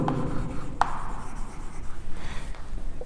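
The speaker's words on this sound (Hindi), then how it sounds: "तो यहां पे लिखेंगे बाय हीरोन्स फॉर्मूला।" Pen writing a Heron's formula solution on paper in a maths lesson: soft, close scratching strokes with a couple of sharper taps, continuous and moderately loud, with no speech.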